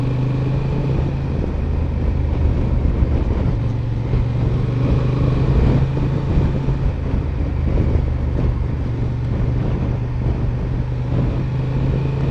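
A 2025 Honda Transalp 750 adventure motorcycle at riding speed, a steady engine drone with a low hum and constant wind rush on the microphone, loud and unbroken, with no talking.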